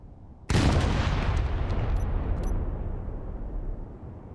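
Dive bomber's mounted gun firing in the plane-building game Ares at War: a sudden loud blast opens a sustained roaring burst that slowly fades, with faint tones near the end and no talk.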